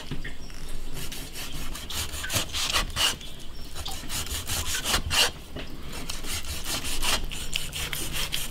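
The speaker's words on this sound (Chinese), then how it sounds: "搞块豆腐，切厚一点，把这个腊肉切点" A kitchen knife slices thick pieces of tofu and cured pork on a wooden chopping board, giving a steady run of close, crisp scraping strokes with a few sharper cuts.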